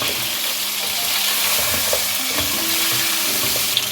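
Steady sizzle of garlic ginger paste frying in a pan, with occasional stirring scrapes, close and continuous without any talking.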